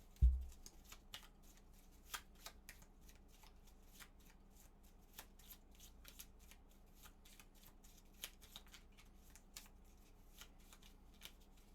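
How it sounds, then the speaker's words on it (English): A deck of cards for the Gloomhaven board game being shuffled by hand at a table, starting with one soft thump followed by quiet, repeated riffling and shuffling clicks, close and alone with no talk. "Shuffle this up."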